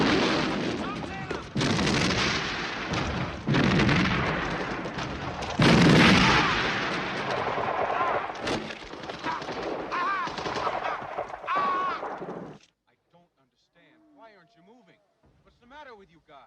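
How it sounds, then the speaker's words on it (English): Dense covering gunfire and artillery from a WW2 battle scene at Arnhem roar as rapid machine-gun bursts and heavy booms, loud and sustained for about twelve seconds before cutting off to near silence with faint voices. "Covering fire!"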